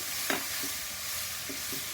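Papaya thoran with grated coconut being stirred in a pan, a few soft scraping strokes spaced out over a quiet background hiss, no talking.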